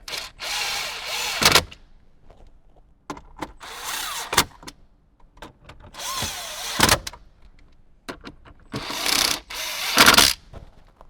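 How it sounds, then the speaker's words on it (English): Ratchet wrench with a 10 mm socket tightening the bolts on a Kenwood DMX-1058XR head unit in a Toyota Tacoma: four bursts of rapid clicking ratchet strokes, loud and close, separated by short pauses and small clinks. "now we can grab our 10 millimeter and go ahead and tighten each one of those up"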